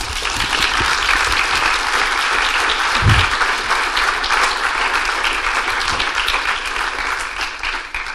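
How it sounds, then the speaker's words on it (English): A room full of people claps loudly and continuously at a student entrepreneurship event, sustained applause without a break that tapers a little at the close. "I think we can give them a big round of applause."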